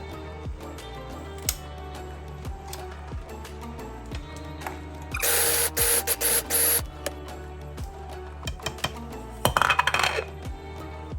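A mixer grinder grinds sugar into powder for motichur ladoo in a home kitchen, with two bursts of loud, gritty whirring, one about a second and a half long and a shorter one later, over a steady low background hum.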